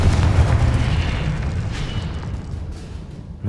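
A Confringo blasting spell detonates in the game Hogwarts Legacy, a loud booming explosion with a deep rumbling tail that slowly fades, followed by a fresh burst right at the end.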